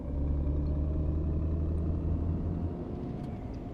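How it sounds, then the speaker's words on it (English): A car in a driving simulator game set on Munich streets rolls past with a steady low engine rumble and road drone, continuous and fairly close, with no talk over it. "just watching that car go past"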